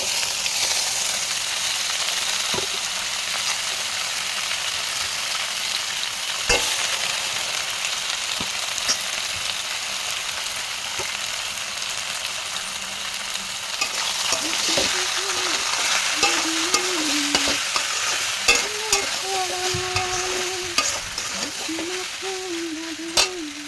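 Onions fry in a pan with a continuous close sizzle, broken by scraping and clinks as they are stirred, and faint speech toward the end.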